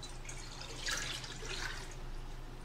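Water being poured into a container while making homemade collagen, heard as a faint, close, trickling splash that rises briefly in the middle and continues softly to the end.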